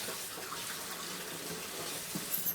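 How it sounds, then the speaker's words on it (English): Hot water running steadily from a kitchen tap into a sink, a continuous close hiss and splash with no talking over it. "I will run the tap until it's really hot."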